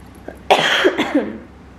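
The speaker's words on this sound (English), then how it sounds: "I just cannot get rid of this cough" A single harsh cough bursts out close by, followed by a couple of rougher hacking catches before fading to quiet.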